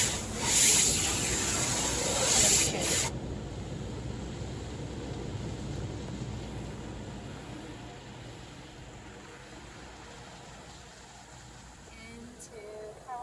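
A car pre-wash spray at a car wash hisses loudly for a few seconds, then gives way to a steady, softer rush of water and machinery.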